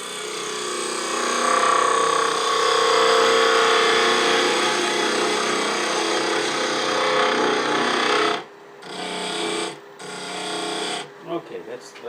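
A wood lathe runs with a steady whirring tone while a tool cleans up a V cut in the spinning wood, then the machine stops and restarts in short bursts.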